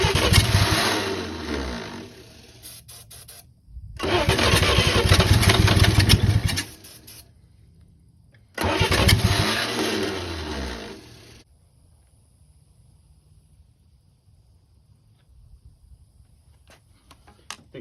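Long-dead, roughly 80-year-old Chevrolet 216 inline six-cylinder engine cranking and catching in three separate loud bursts, each roaring for a few seconds before cutting out, with quiet gaps and near silence at the end.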